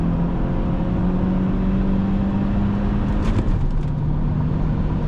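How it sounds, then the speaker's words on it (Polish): A warmed-up 2003 Saab 9-3 2.0 T Aero engine and exhaust droning loudly and steadily, with a deep rumble that rises briefly as it revs, close by. "Wydeczek jak się tutaj rozgrzał, jaki głośny się zrobił"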